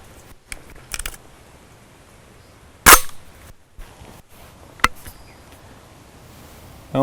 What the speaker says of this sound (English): we're going to shoot Last Call 410 3-inch number 9 shot